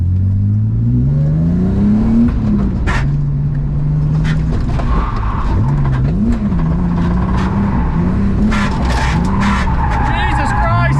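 A budget £2000 drift car skids continuously in second gear, its engine revving up and down in rising and falling sweeps while tyres squeal loudly and steadily; close and loud throughout, with voices faintly under the noise.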